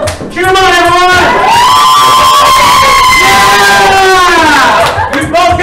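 A live gameshow audience cheers and shouts loudly for two contestants racing a timed challenge, a dense close roar of voices with high whoops and screams rising and falling throughout.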